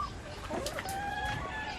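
A chicken on a farm clucks close by, several short tonal clucks and murmurs over a low, busy background.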